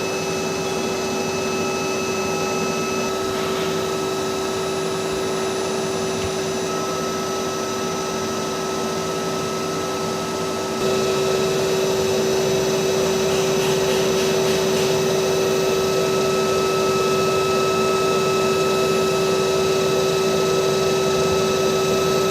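A CNC milling machine on a dry run with no cutting, a loud steady motor whir and tonal hum that shifts up in level midway and continues evenly throughout.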